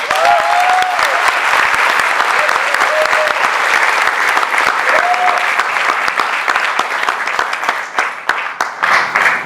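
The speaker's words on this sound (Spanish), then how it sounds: "también un aplauso para Marcela Turati y para Jacobo Dayan" Audience applause at a Spanish-language literary event, a dense, steady wash of many hands clapping that stays loud throughout, with a few faint voices and whistles mixed in before it thins slightly at the end.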